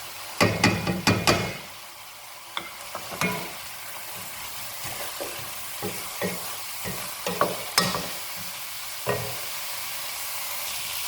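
Prepared spices and garlic-ginger paste hit hot oil in a pan for Arab-style chicken stew, bringing a continuous sizzle broken by sharp metal spoon clanks and stirring scrapes, loud and close, without speech.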